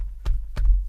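Two deep, soft heartbeat thumps, evenly spaced and close, with a low throbbing hum between them.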